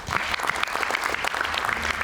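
A television studio audience claps steadily in a dense, even burst of applause lasting a couple of seconds.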